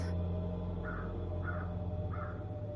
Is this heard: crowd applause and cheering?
no